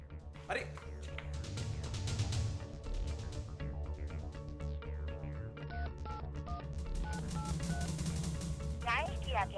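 Short tones beep in quick sequence like keypad dialing, mixed with a phone's ringing and voices talking in Hindi throughout at moderate volume.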